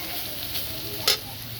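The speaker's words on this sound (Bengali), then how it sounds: "হলুদ দেওয়া হয়ে গেছে, এবার একটু নেড়ে নিতে হবে।" Potatoes with turmeric are stirred in a pan over a soft background sizzle, with one brief, sharp scrape of the utensil near the end.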